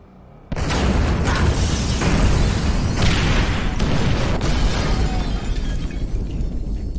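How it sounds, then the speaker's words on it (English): C4 detonated by mobile phone in GTA V goes off in a sudden loud blast, followed by a dense, sustained roar of crumbling debris and rumbling that stays loud for several seconds. "Use the mobile phone to detonate the C4."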